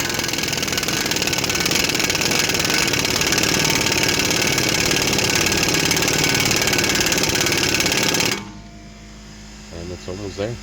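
A pneumatic impact tool with a 32mm socket driving out the axle of a 2020 Nissan Altima hammers loudly and continuously for about eight seconds, then stops abruptly, leaving quieter shop noise and a voice.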